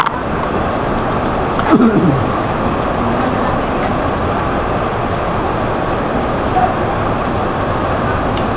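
Heavy rain pours down steadily in a town in Quezon Province, a loud dense hiss with no breaks, with a brief murmur of voices under the downpour.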